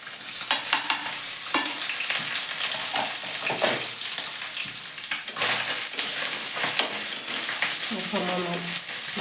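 A fish head fries in hot oil in a pan with freshly grated ginger, hissing loudly and continuously while a spatula scrapes and stirs in irregular clatters.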